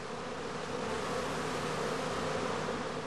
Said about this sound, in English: The experienced beekeeper can tell from their behavior at the entrance whether the bees are about